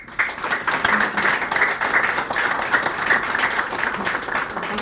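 An audience at a history forum lecture breaks into warm applause to welcome a lecturer, rising quickly and holding as a dense, sustained clapping with individual claps standing out, loud and close, with no speech.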